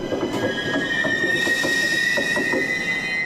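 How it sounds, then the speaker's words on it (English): A Queensland New Generation Rollingstock passenger train rumbles in close by, wheels clattering rhythmically over the rails with a high metallic squeal ringing above the noise. "The next generation of Queensland trains has finally arrived."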